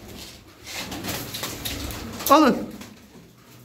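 Pigeons coo amid a pigeon-selling session, with one clear, throaty coo rising near the middle over murmuring voices and background shuffling; someone speaks briefly.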